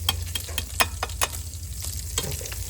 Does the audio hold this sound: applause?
no